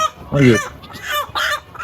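Loud squawks from a large hen having its beak trimmed, in two harsh bursts, close by, with brief distressed calls between them.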